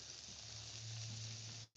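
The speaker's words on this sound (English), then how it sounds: "Y'all hear that sizzle?" Food sizzles loudly and steadily in a pan on a camp stove out in the rain, a continuous frying hiss that holds for almost two seconds before cutting off abruptly.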